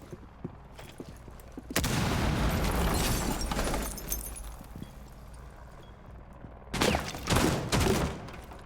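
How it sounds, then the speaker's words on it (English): Bursts of gunfire in the video game Rainbow Six, a long loud rattling volley followed by scattered shots and a second dense burst near the end, with no talk. "hear some gunshots being fired"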